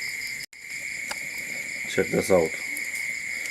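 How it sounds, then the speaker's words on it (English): Grasshoppers chirp at night outside a workshop as a steady, high, continuous trilling drone throughout, with a voice briefly speaking over it. "Grasshoppers hit last night, actually. Tonight I see they're back again."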